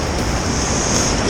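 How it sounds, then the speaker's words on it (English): Sea waves breaking on a rocky shore make a loud, continuous roar of surf that fills the whole moment without pause, with no talk over it. "So I always look for waves that are breaking softer and running along for a long way, rather than crashing down"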